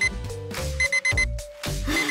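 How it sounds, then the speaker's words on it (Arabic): An alarm clock rings in the morning with a repeated electronic beeping pattern, loud and close, over a layer of background music. "اسكت يا منبه"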